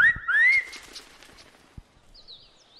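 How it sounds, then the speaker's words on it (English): A wolf whistle aimed at a scarecrow in the Brothers: A Tale of Two Sons video game: two rising whistled notes, loud and close, followed by quieter game sounds and faint bird-like chirps. "Wolf whistling at a scarecrow."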